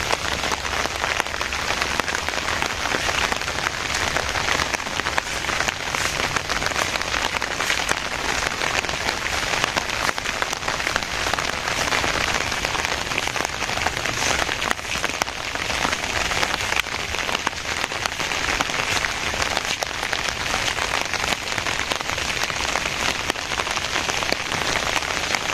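Steady rain falls beside a village pond with its tall trees, a constant close patter and hiss of drops on surfaces lasting the whole stretch without pause.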